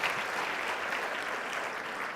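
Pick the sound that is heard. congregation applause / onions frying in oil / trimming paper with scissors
congregation applause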